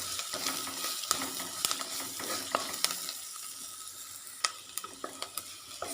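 Onions sizzle and fry in a pan with a little turmeric powder while being stirred, a steady crackle broken by sharp scraping spikes of the spoon against the pan, close and continuous with no talking.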